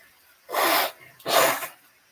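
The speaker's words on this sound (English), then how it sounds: "When I sneeze, my nose runs." Two loud, close sneezes come in quick succession, each a breathy explosive burst, with quiet before, between and after and no talking.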